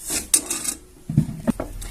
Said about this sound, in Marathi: सगळ्यात पहिल्यांदा आपण भगर भाजून घेऊया गॅस पेटवलेला आहे कढई पण गरम झालेली आहे